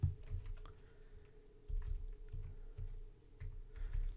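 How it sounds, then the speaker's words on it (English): A command typed on a computer keyboard, soft, close keystroke clicks in short irregular bursts with pauses between them, no voices. "and then just type in the address"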